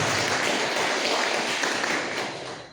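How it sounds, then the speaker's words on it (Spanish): An audience at a literary group's public gathering gives a short burst of dense applause. The clapping is moderately faint and fades slightly at the end. "Lo recibimos con un fuerte aplauso, Óscar Contreras Hernández."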